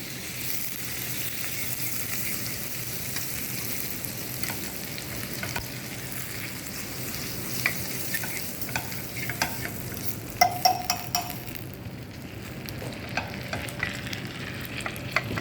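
Butter for a crepe suzette sauce sizzles steadily in a pan while being stirred, an even, moderate frying hiss with occasional light scraping and clicking of a utensil.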